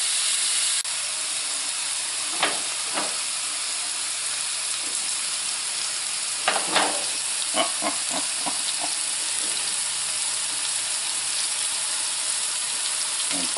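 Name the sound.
beef pinwheels sizzling while frying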